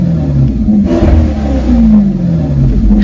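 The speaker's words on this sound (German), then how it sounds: "Diese Musik mache ich hier mit dem Gaspedal." A Maserati engine revved through the gas pedal, loud and close, with rising and falling rev sweeps and a throaty mid-range growl across the whole stretch, no voices.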